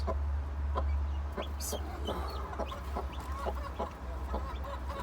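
A hen clucks softly at close range while a newly hatched, still-wet chick peeps in short, scattered chirps, with a low hum in the background.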